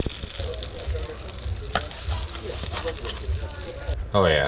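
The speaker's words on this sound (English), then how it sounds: "But when the butter gets browned, there's a special chemical reaction that happens." Butter browning in a pan crackles and sizzles steadily up close. A person speaks briefly over it near the end.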